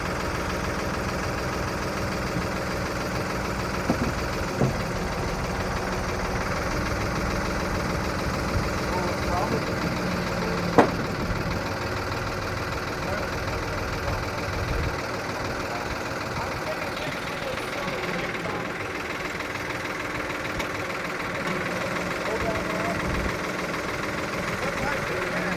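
A tractor engine runs at a steady idle through the whole stretch, a constant mid-to-low drone with a faint knocking texture, close by and unchanging, with no voices heard.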